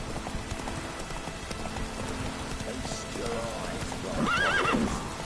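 Horse in a video game galloping with rhythmic clip-clop hoofbeats, then a clear whinnying neigh near the end, moderately quiet over a faint background hiss.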